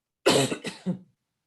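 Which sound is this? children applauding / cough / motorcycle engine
cough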